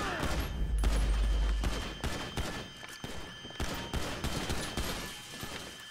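Rapid shotgun gunfire in the video game Grand Theft Auto 5, a series of sharp blasts in close succession with echoing decay, loud and repeated across the clip.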